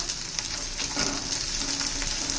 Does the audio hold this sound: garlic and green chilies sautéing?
yes